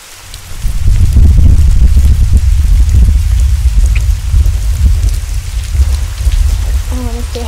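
A heavy downpour during a thunderstorm swells in within the first second to a loud, steady hiss of rain beating on surfaces, and a brief voice sounds faintly at the very end.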